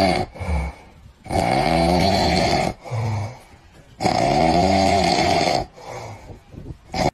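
Loud, close snoring in long rumbling breaths, alternating with quieter snorts and inhales; sounds like a person imitating a heavy snore.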